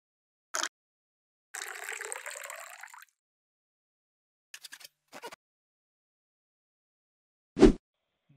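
Demineralized water poured into a mason jar in short bursts, with a brief splash, a longer trickling pour and a few small drips and clinks separated by silence.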